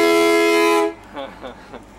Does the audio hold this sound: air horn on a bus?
yes